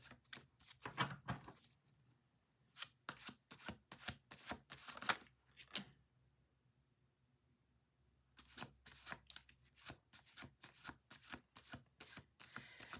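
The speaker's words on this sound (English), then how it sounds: "I'm going to keep shuffling." Tarot cards are shuffled in quick riffling bursts, close and soft, with a short quiet pause before another run of shuffling.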